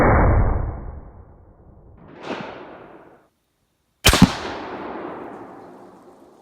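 Hunting rifle fired at a tack 100 yards away outdoors, giving sharp, loud reports that ring out and trail off in long echoing decays, with a softer crack between and a clear silence before the final shot.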